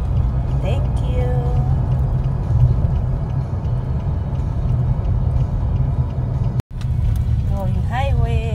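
A car cruising along an interstate highway, a steady low road rumble with tire and engine noise that runs unbroken apart from one brief dropout, while a voice talks intermittently over it.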